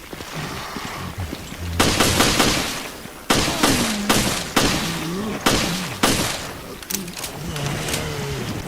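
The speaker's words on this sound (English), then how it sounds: "let's test the Glock 18 on an ooze" Glock 18 handgun fire in Resident Evil: Revelations, a run of sharp loud bursts from about two seconds on, with impact and creature sounds between them.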